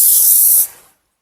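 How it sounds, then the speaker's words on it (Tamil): One short hiss of an aerosol hairspray can, steady for a moment before cutting off. "திரும்பவும் ஸ்ப்ரே பண்ணி ஸ்ப்ரெட் பண்ணி விடுறேன்"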